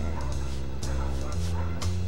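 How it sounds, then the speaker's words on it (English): Dogs barking and yipping in the Family Guy video game, several short barks recurring through a continuous game music and sound bed, fairly loud and close. "All these dogs do is bark and crap."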